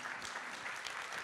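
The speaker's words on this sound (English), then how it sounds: "Let's give her another warm round of applause" Brief burst of polite applause from guests at a business luncheon, soft and distant, steady clapping filling the short moment.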